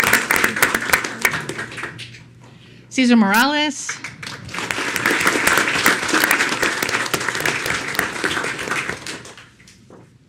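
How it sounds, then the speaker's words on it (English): Audience applause at a city council meeting, broad dense clapping that swells after a short spoken name and a brief whoop-like cry, continuing steadily for several seconds before tapering off. "we can give him a round of applause anyway."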